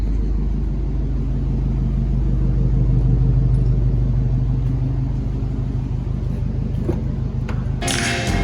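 A BMW E30 drives past with a steady, rumbling engine note that swells slightly midway and stays close and loud, ending with a short burst of hiss or wind noise, no voices.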